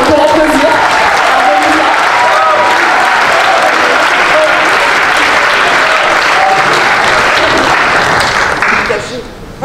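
Loud, sustained applause fills a crowd at a Paris municipal campaign meeting, with a few faint cheers in it, and it thins out abruptly at the very end.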